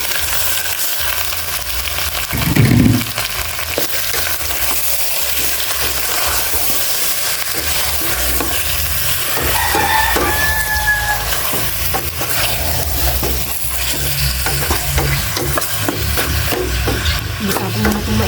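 Chicken pieces sizzle steadily in hot cooking oil while being stirred, a continuous close frying hiss with scraping stirs and a brief louder clatter early on.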